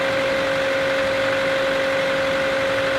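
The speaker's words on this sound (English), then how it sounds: "Sounds like a 4-cylinder generator." A Chevy Volt hybrid's engine runs as a generator, idling steadily with a constant mid-pitched four-cylinder hum and drone, like a small generator, with no voices.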